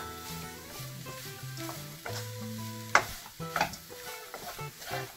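Pork sisig with spring onion garnish sizzles steadily in a hot pan while being stir-fried, with scraping stirs and a sharp utensil clack near the middle, close and fairly loud with no talking.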